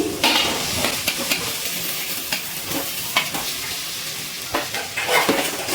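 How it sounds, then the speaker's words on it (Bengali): Fried potatoes being stirred into a sizzling spice masala in a pan while cooking a cauliflower, potato and duck egg curry, with steady frying crackle and repeated scraping utensil strokes against the pan, no talk. "মশলার সাথে ভেজে রাখা আলুগুলো একটু নাড়াচাড়া করে নিচ্ছি"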